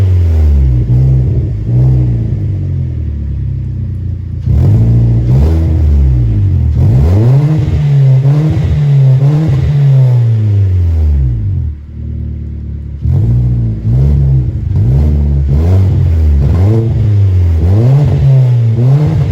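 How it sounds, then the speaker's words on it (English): A 2012 Kia Forte sedan engine revs hard through its exhaust in repeated rising and falling bursts, loud and close, with short idle gaps between pulls. "Y'all wanna hit the exhaust real quick?"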